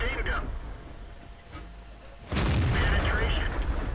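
A sudden heavy boom of a tank gun firing in World of Tanks, loud and close, cutting in after a quieter stretch of battle rumble and then ringing out in a sustained roar.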